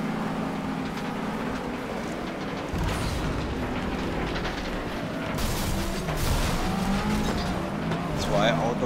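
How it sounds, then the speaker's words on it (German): Racing cars in FlatOut Ultimate Carnage roar continuously, with engines revving and metallic crunches as cars ram into other cars, dense and loud throughout. "In zwei Autos reingefahren, aber leider die Autos nicht platt gemacht"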